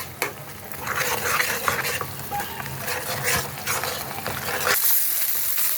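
Ground pea-pod paste seasoned with salt and a little sugar being stir-fried in a pan, a continuous sizzle under repeated scraping and stirring strokes of a spatula, close and fairly loud.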